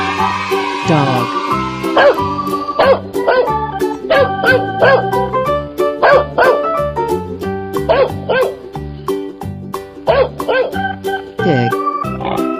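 A cartoon dog barks in a quick series of high, bouncy yips and woofs over a bright musical backing, repeated rhythmically and loudly up close.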